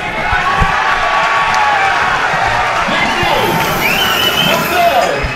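At an MMA title fight between Nick 'Banjo' Patterson and Dennis Kelly in the third and final round, a large arena crowd roars and whistles loudly and continuously, with shouts rising above the din.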